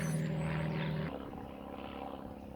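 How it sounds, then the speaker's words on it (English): A steady droning rumble from an aeroplane passing overhead outdoors, fairly faint, easing off partway through as it moves away. "An aeroplane just went past here."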